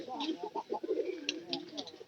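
Pigeons kept in pairs in a home loft, cooing in soft repeated low calls with a few brief higher chirps, fairly close and continuous.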